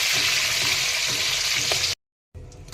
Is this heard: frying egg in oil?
yes